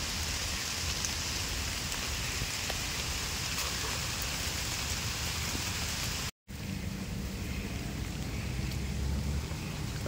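Heavy monsoon rain pours steadily outdoors at a creek during crab catching, a dense, continuous hiss with no breaks except a momentary dropout.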